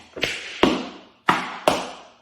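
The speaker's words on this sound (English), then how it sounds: "So the step sounds like flap, heel, heel, spank, heel, toe, heel." Four crisp tap-shoe strikes on a hard floor, close and fairly loud, in an uneven rhythm with brief ringing decay after each.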